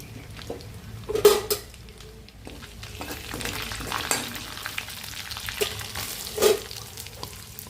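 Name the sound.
cumin and onion frying in butter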